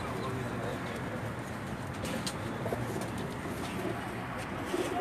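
Pigeons coo softly on a rooftop loft in Jeddah, Saudi Arabia, a continuous low murmur of calls mixed with light wing flutters and background noise.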